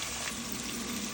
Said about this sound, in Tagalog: Gisa.